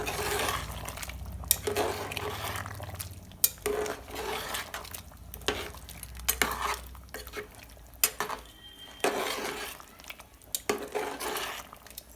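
A spoon stirs and scrapes around a pot of country chicken gravy with pepper powder and coconut, giving intermittent knocks and wet scraping strokes, close by and moderately loud, with no voices.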